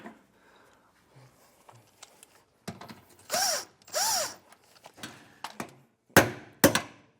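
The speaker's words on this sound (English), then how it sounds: "I just take a hammer and hit direct on that nut, and that'll drive those splines out" A hammer strikes a nut to drive out wheel splines while a Roadmaster Comfort Ride leaf spring suspension kit goes onto a 2021 vehicle: scattered mechanical clanks and rattles, then two sharp ringing metallic hits near the end, close by.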